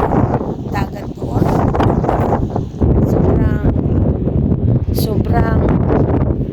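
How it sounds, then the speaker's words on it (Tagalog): Strong, cold gusting wind by the sea roars across the microphone, buffeting loudly and continuously, with a voice speaking over it. "Sobrang lakas ng hangin."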